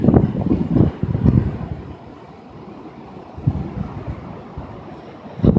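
Ocean waves wash in surges at Ocean Beach in San Diego while wind buffets the microphone, with loud gusts at the start and end and quieter surf rumbling in between.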